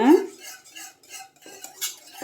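Custard milk being stirred in a metal pan for bread pudding, a spoon scraping and clinking against the sides in steady close strokes with short pauses, alone with no talk.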